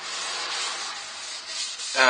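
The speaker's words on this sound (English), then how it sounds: "just sanded down to 80 grit" Abrasive paper hisses steadily against a spinning olive ash bowl on a woodturning lathe, a continuous close, even rasp that swells slightly near the end.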